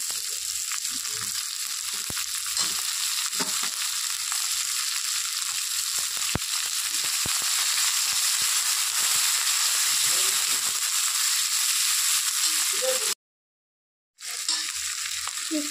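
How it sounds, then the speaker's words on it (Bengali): Sliced onions sizzle in hot oil with browned garlic and a pinch of salt for Bengali chicken kosha, a steady close frying hiss with occasional stirring clicks and a short silent break. "একটু নুন দিয়ে দিচ্ছি, পেঁয়াজটা যেন তাড়াতাড়ি ভাজা হয়ে যায়, নরম হয়ে যায়।"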